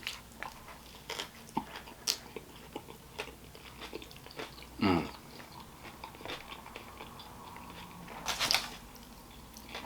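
Close, soft crunching bites and chewing of a tender meat food truck sandwich with spicy green sauce, scattered intermittent crunches over quiet background.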